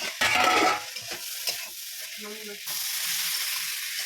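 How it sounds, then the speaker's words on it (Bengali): Vegetables are stirred and sautéed in a hot pan, giving a steady sizzle with scraping stir strokes, close and clear, with a brief louder clatter at the start. "সবজিটা ভালো করে কষে নেব"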